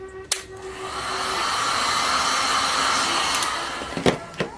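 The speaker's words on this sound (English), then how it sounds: "So again, take your heat gun" A heat gun blows a steady, loud hiss of hot air across a pan dessert candle for several seconds, with a couple of sharp clicks and knocks near the start and end.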